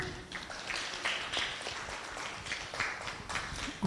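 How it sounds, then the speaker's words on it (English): Audience applause for a television host at a Kenyan investment learning event, a scattered mid-level clapping that runs steadily for a few seconds with uneven individual claps standing out. "let's give a round of applause to Regina."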